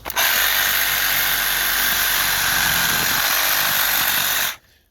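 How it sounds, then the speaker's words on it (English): A Milwaukee Sawzall reciprocating saw cuts through tree roots while digging, a loud, steady buzzing roar that runs almost unbroken for about four and a half seconds before cutting off abruptly. "Trusty ye old Sawzall to cut these roots out of the way."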